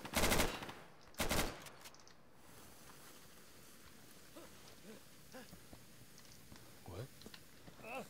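Two loud bursts of automatic gunfire in the video game Insurgency, close and sharp, followed by quieter distant shots and faint game ambience with a voice speaking.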